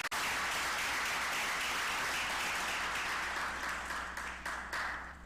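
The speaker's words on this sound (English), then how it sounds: "That deserves a round of applause." An audience at a school games launch gives a sustained round of applause, dense clapping that starts abruptly, holds steady and tapers off toward the end, with no talk over it.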